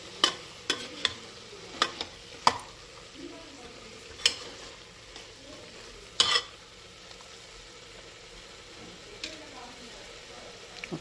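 Spices including coriander powder are stirred into a frying masala for Karnataka-style avarekai sambar. A quiet sizzle runs under scattered sharp clicks and scrapes of the spoon against the pan.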